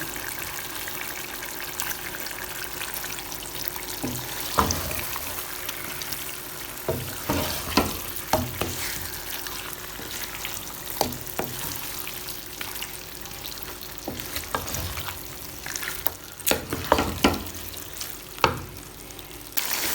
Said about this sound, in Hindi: फ्लेम कर देते हैं हाई और चिकन कर लेते हैं फ्राई